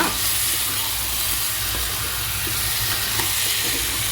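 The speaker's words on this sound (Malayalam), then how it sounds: "ഇനി നമ്മൾ ക്ലീനാക്കി വെച്ചിരിക്കുന്ന ഞണ്ട് ഇട്ട് കൊടുക്കുകയാണ് കേട്ടോ എന്നിട്ട് നല്ലോണം ഒന്ന് മിക്സ് ചെയ്ത് കൊടുക്കുക" Cleaned crab going into a hot pan for a Kerala-style crab lunch dish and being mixed, giving a steady, close sizzle and frying hiss throughout with faint stirring scrapes underneath.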